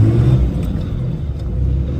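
A 4th-gen dually pickup with a G56 manual transmission swap drives along, its engine a steady low rumble with mild revving, continuous and close, with no talking.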